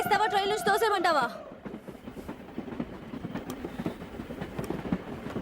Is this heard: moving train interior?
yes